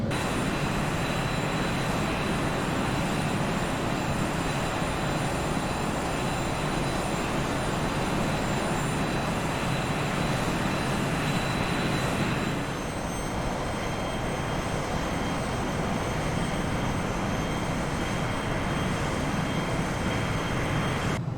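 Airliner engines drone steadily during the climb out of Heathrow in X-Plane 11: a loud, continuous broadband roar with a faint high whine on top that holds level throughout, with a slight shift in tone partway through.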